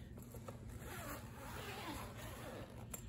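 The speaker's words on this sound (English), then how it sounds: "there's a zip on the top lid of the bag" Zipper pulled along the top lid of a Travelpro Maxlite 5 22-inch carry-on suitcase, a continuous close scratchy rasp lasting a few seconds over low background rumble.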